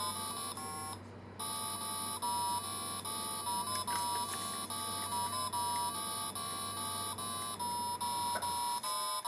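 Beeping theme tune from a Brick Man handheld game playing game B, Dragon Ball. A steady electronic melody of square-wave bleeps with a brief gap near the start and no voices.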